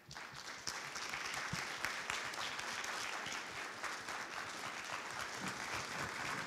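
Broad, continuous applause from an audience at a 2016 hit-products announcement event in Japan, welcoming an actress on stage; even and sustained throughout, moderately distant and without voices.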